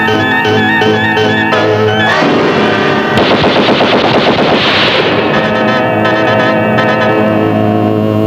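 Loud, sustained machine-gun fire rattles continuously, with dense rapid shots layered over a steady rumble and no talking.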